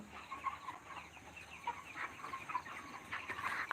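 A flock of 33-day-old broiler chickens clucks and chirps on a poultry farm, a faint, busy chatter of short overlapping calls heard from a distance with no talking.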